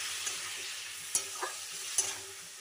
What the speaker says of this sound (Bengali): একটু সামান্য অল্প জল দেব, দিয়ে এবার আমি ভালো করে কষিয়ে নেব।